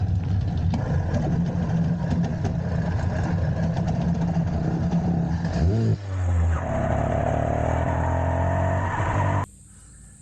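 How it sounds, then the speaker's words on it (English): A motorized bicycle fitted with an HP carburetor runs wide open along a road: a loud, continuous engine drone that shifts pitch midway and then drops off sharply near the end. "we're going to do a cold start with each bike and run up and down the road here"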